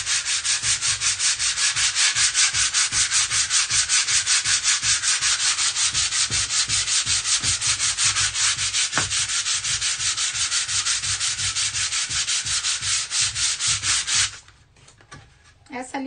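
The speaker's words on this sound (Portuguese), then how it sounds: "Eu vou passar essa lixa aqui," Hand sanding with 150-grit sandpaper on a wooden pallet craft piece makes rapid, rhythmic back-and-forth rasping strokes, close and steady, stopping near the end.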